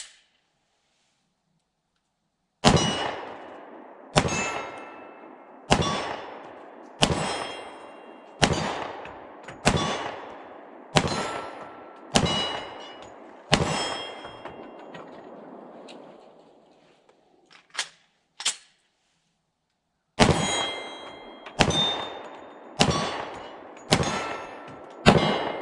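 A Smith & Wesson M&P 10mm M2.0 pistol fires at targets 15 to 18 yards away: about nine loud, sharp shots in a steady rhythm, a pause with faint metallic handling clicks, then five more evenly spaced shots.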